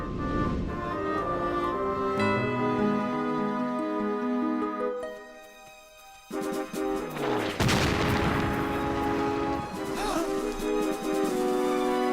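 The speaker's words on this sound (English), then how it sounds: "Cannon! And they're close." Cartoon cannon fire close by, a burst of booming blasts after a stretch of music, followed by repeated explosive hits and rumbling over the score.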